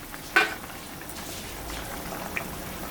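A thin fish curry broth with vegetables simmers in an uncovered pot, giving a faint, steady bubbling and soft sizzling hiss with one brief clink near the start.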